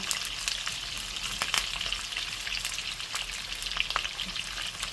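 Pork pieces fry crisply in their own rendered fat as they are stirred, a continuous crackling sizzle with sharp pops and occasional scrapes near at hand.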